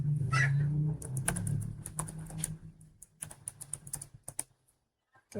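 Computer keyboard typing during a network security lab exercise, a burst of quick irregular key clicks that thins out to scattered taps before falling silent, with a low hum underneath.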